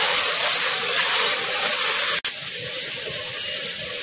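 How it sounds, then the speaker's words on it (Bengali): Onion paste and spices sizzle in a pan for chicken curry, a loud steady frying hiss throughout with one sharp momentary break partway through. "মশলাটা এখন ভালোভাবে কষে নিতে হবে।"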